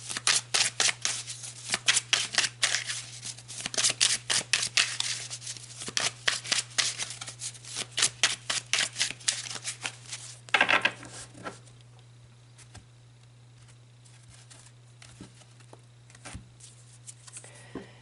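Tarot cards are riffled and shuffled by hand in a rapid, close, crisp run of flicks and snaps for about ten seconds, ending in a brief flurry and then near quiet with a steady low hum.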